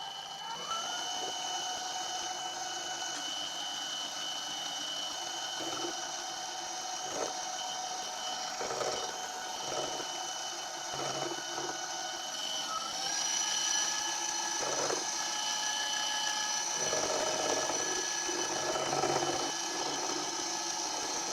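Machine tool cutting cast iron base castings for a Quorn Mk3 tool grinder, a steady whining drone with harmonic tones and brief dips and surges as cuts start and stop, continuous and fairly loud throughout.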